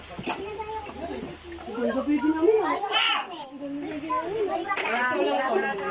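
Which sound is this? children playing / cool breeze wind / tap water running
children playing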